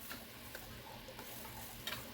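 Ground spice paste sizzles softly in hot oil as a steady hiss, with a few light clicks of stirring; fairly quiet and close.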